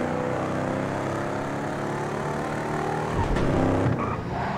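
Rat Truck in GTA 5 Online heard from the cabin, a steady engine roar that surges briefly near the end, with a faint skid-like scrape and no talk.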